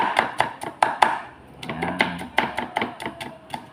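Onion being chopped with a knife on a cutting board: a steady run of about a dozen crisp, close knife taps in an even rhythm, with no talking.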